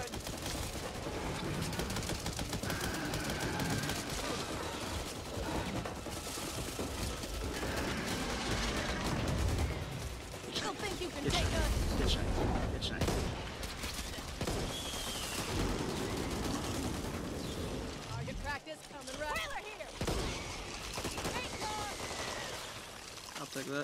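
Gunfire in the co-op zombie shooter Back 4 Blood, with dense shots and bursts running almost nonstop through the clip under game noise and players talking.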